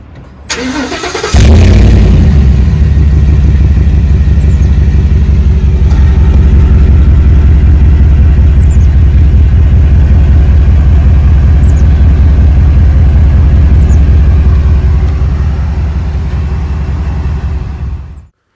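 A Ford F-150 Lariat pickup with a 6.2L engine and a Raptor exhaust cranks briefly, fires up with a loud roar, then settles into a deep, steady, rumbling idle heard up close for over fifteen seconds.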